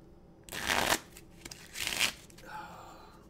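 A deck of playing cards is shuffled at close range in two quick riffling bursts, each followed by a softer settling of the cards, with a few faint taps and rustles in between.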